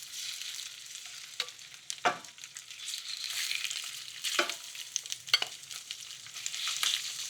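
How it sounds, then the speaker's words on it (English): Shrimp frying in very hot shimmering olive oil, a constant crackling sizzle broken by several louder bursts as the pieces are stirred and moved, close and with no voices. "I'm gonna cook the shrimp before adding the pesto to the pan"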